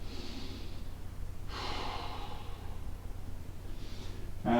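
Slow, deep breaths during an abdominal stretch in a fitness workout: two soft, drawn-out inhale-exhale rushes of air over a low steady background hum, with no talk.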